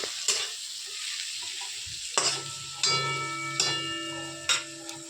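Spices such as salt, chilli powder, turmeric and cumin powder tipped into hot oil one at a time, each addition bursting into a loud, close hiss of frying over a steady background sizzle.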